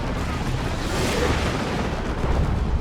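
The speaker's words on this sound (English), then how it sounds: "Plasma cannon almost finished off the Predator tank there." Plasma cannon fire and a heavy explosion in the Dawn of War 2 video game, a loud booming blast with rumbling debris amid a chaotic battle, alone with no voices.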